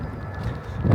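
Steady wind buffeting the microphone at an athletics track, a low rumbling roar that swells louder toward the end.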